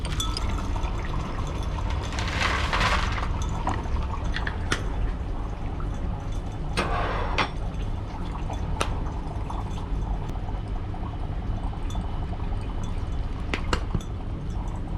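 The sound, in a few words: dry ice added to beakers of cold and hot water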